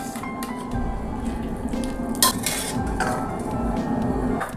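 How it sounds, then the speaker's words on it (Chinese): Boiled pork is scooped out of a pot with a metal ladle or strainer, producing loud close clinks and scrapes against the pot plus wet sloshing, steady throughout with one sharp knock. "煮开锅之后啊，咱把这浮沫往出撇一撇，它会煮这1分钟，然后咱把肉啊捞出来"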